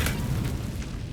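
A fire spell cast in Hogwarts Legacy, a short whooshing burst of flame with a boom-like onset that quickly settles into crackling roar, with no talk.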